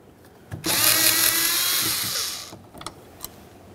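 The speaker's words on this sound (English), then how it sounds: "I'll remove the Phillips head screw though." A cordless power driver spins out a Phillips head screw from a 1990s Honda Accord door handle, a close whirring burst of about two seconds followed by a few faint clicks.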